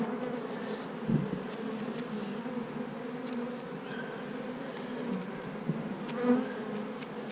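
A dense, steady hum of many honeybees buzzing close by as they are brushed off frames at a colony, with a few individual bees droning louder as they pass.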